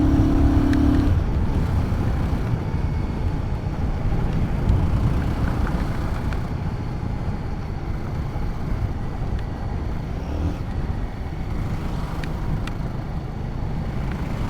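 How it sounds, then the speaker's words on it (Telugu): Steady road traffic noise while riding a Royal Enfield Guerrilla 450 motorcycle, a continuous loud low rumble with wind buffeting on the microphone throughout, no speech. "ఇక్కడ ట్రాఫిక్ ఎక్కువ ఉందన్నమాట"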